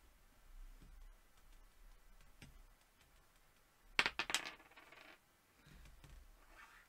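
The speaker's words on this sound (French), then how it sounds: "je veux lancer le dé pour peut-être donner ou échanger des cartes" A die tumbles and clatters on a table during a board game, a short burst of sharp close taps amid faint handling noises in a quiet room.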